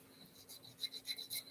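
Light rasping strokes of sandpaper on a small plastic part of a Revell 1:72 Sopwith F-1 Camel scale model kit, faint and quick, a rapid series of scratchy passes heard alone at close range.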